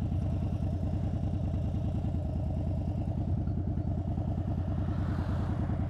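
A Harley-Davidson motorcycle engine runs steadily up close, a dense low rumble with a regular thumping pulse that holds at an even loudness throughout.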